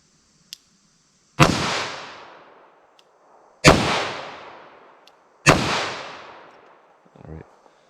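Three loud revolver shots fired at a range, evenly spaced a couple of seconds apart, each a sharp crack with a long ringing decay, followed by a faint clatter.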